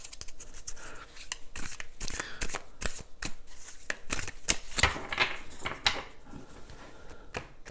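Tarot cards shuffled by hand at close range, a steady run of crisp riffling, flicking and slapping bursts with short pauses between them, alone without talk.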